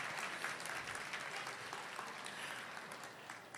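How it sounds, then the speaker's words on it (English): A crowd at an afternoon celebration event applauds with a dense, steady patter of clapping that holds evenly throughout, heard from a moderate distance. "that deserves a cheer"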